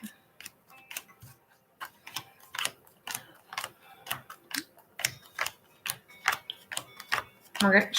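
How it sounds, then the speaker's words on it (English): Tarot cards being shuffled in repeated quick bursts of crisp riffling clicks, close and fairly soft, with a voice faintly present at times. "I'm shuffling some tarot for the day, for the week and for the day."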